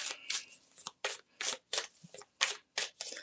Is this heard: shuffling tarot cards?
yes